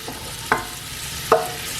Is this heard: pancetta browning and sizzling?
yes